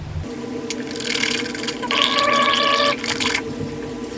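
Liquid poured into a mouth for gargling, a close, wet bubbling and gurgling sound that builds over a few seconds and then stops, quiet overall.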